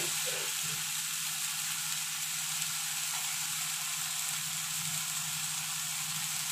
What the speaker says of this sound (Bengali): মশলাটা অনেকটাই ভাজা হয়ে গেছে, দেখো মশলা থেকে হালকা হালকা তেল ছাড়ছে